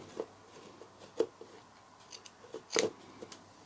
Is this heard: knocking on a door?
no